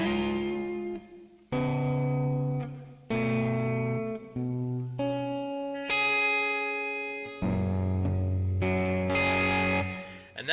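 Clean guitar chords ring out one after another, each sustaining and blooming with a spacious reverb tail that lingers between strums.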